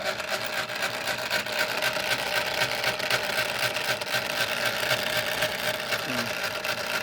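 A Panama gear-driven 52-inch ceiling fan runs with its blades removed, giving a steady mechanical whir with a rough, grinding gear texture and faint ticking, continuous and close.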